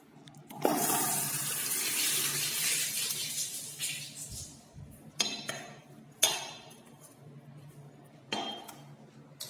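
Tap water runs steadily into a bathroom sink while a drain filter is rinsed under it, with a few short clinks and splashing surges breaking the flow at close range.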